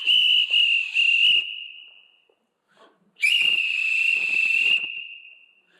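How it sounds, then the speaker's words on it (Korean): Two loud, sustained high whistle blasts, the first about two seconds with a slight wavering, then a pause and a second longer blast, shrill and close. "그건 휘바람이 아니라 휘슬, 호루라기 같이 임하는 거예요."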